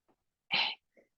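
A single sharp sneeze bursts out loud and close, lasting about a quarter second, with soft breaths just before and after.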